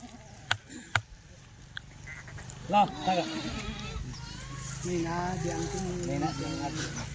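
Kathiawari goats bleat several times in wavering cries at moderate distance at a live goat sale, with a few sharp knocks early and people talking throughout.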